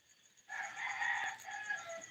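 A rooster crows at night, a single drawn-out call that breaks in abruptly after near silence and holds for well over a second, faint and distant-sounding, with no talk over it.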